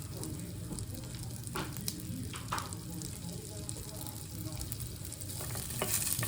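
Guanciale sizzles gently in olive oil in a hot pan, a quiet, steady crackle with occasional small pops and a faint stir.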